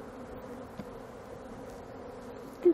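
Honey bees from a swarm buzz steadily inside an opened hive, a continuous moderate drone with a brief louder buzz near the end.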